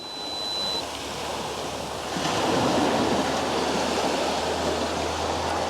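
Ocean waves rolling in on a shoreline during a landscape shoot, a steady broad wash of surf that swells louder midway as another wave comes in, with wind noise and no talking.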